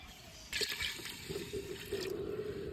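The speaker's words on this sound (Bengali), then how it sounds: "চালের উপরে পানি দিয়ে দিই" Water poured over rice in a cooking pot on the stove for a date-palm jaggery and coconut rice pudding, a short splashing gush starting mid-clip over a quiet room, fairly soft.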